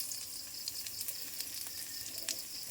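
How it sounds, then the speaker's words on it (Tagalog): Garlic, onion and tomato sauté in a pan, giving a soft, steady sizzle with faint stirring clicks, quiet and continuous. "Nagigisa ako ng ito, bawang, sibuyas, at kamatis."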